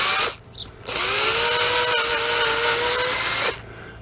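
A power drill runs steadily for about two and a half seconds on a seized motorbike engine, its motor whine rising and then holding, preceded by a brief spin-up and ending in an abrupt stop.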